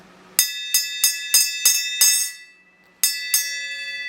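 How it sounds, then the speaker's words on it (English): A handbell is struck repeatedly and rings out bright and clear: six evenly spaced strikes, a short pause, then two more, each leaving a shimmering tone close by. "that young man is going to ring the bell for us to end this video"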